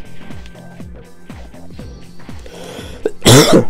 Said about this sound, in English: Man, that's been a while since I coughed.